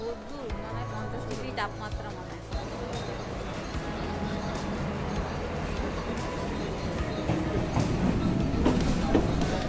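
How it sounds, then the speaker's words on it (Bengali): A Dum Dum Cantonment local train pulls into a Kolkata-area station, its rumble and wheel clatter building steadily louder over about ten seconds, with people talking over the noise. "ক্যান্টনমেন্ট লোকাল ঢুকে গেল"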